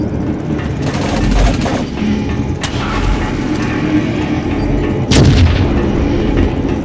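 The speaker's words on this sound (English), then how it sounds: "Null cannon targeting hostile MCC." Heavy booming null cannon blasts from the video game Dust 514, a few deep thuds over a constant rumbling background, with one louder blast near the end.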